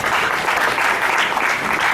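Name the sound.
audience applauding at a conference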